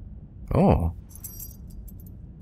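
In the video game The Evil Within, a small key is picked up with a short metallic jingle and swoosh, followed by faint scattered chimes.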